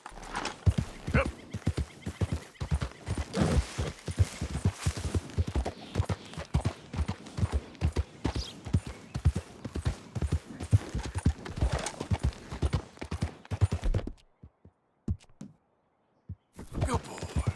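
Hooves of a ridden horse in Red Dead Redemption 2 clop in a quick, steady rhythm with occasional neighs and snorts, close and clear, briefly dropping out near the end before resuming.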